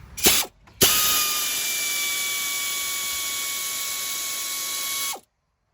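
A power ratchet driver with a 13 mm socket spins out a bolt on a 2007-2014 GMC Yukon XL Denali front suspension, a couple of brief clicks then a sustained loud whirring buzz for about four seconds that stops abruptly.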